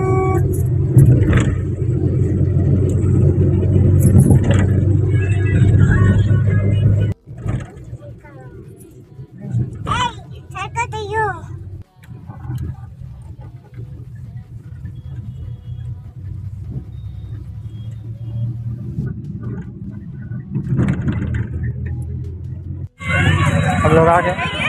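A car drives to a city park, its engine and road rumble steady and close from inside the vehicle, with people talking over it and a couple of abrupt cuts.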